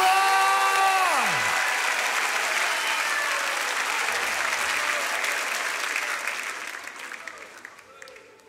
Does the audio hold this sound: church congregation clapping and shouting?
yes